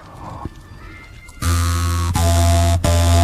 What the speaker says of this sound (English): That's the sound of Adam beginning to learn to play the jaw harp.